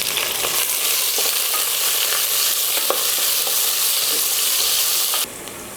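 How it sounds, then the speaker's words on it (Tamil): Sliced onions for veg biryani sauté in a pan with a dense, even sizzle and faint stirring taps, close up and unbroken until it drops away abruptly near the end; no one speaks. "வெங்காயம் வதங்கிருச்சு"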